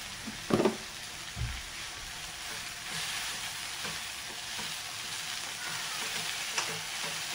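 Coriander leaves frying in a pan, with a steady, quiet sizzle throughout and a few brief stirring knocks near the start, close but faint.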